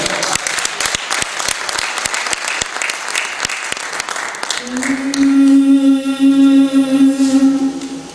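Loud audience applause at a children's book inauguration event, dense clapping for about five seconds that fades as a sustained sung note takes over, carrying on to the end.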